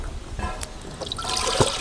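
Half a small pot of water poured into a cooking pan set on a stove while making a drumstick and brinjal gravy, a brief close trickle and splash.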